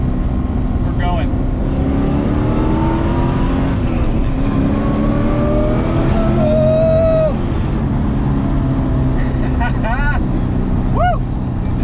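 An LS V8-swapped Mazda RX-7 FD accelerates hard up a freeway on-ramp, the loud engine drone rising and falling through a downshift and gear changes, heard from inside the car with a voice talking over it.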